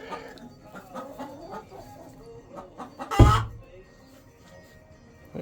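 Hens in a simple backyard coop cluck softly and intermittently, with one sharp loud squawk near the middle and quiet talk nearby.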